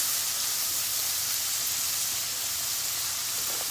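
Vegetables cooking in butter in a pan, a steady broad hiss and sizzle that stays even and close with no talk over it.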